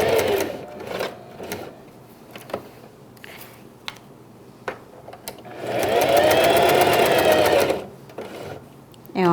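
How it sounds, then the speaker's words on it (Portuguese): Domestic sewing machine stitching a simple pet bandana, with short bursts of stitching early on and then a sustained rapid mechanical whir for about two seconds, close and clear, between quieter handling noises. "Baixar a agulha e vou começar a costurar."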